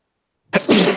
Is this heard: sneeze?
yes